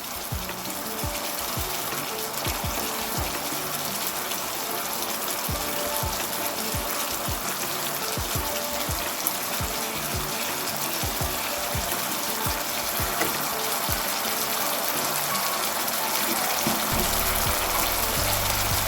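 Palak masala curry with green chillies bubbling on the stove, a steady sizzling, hissing simmer with faint pops, continuous and close, with no talk.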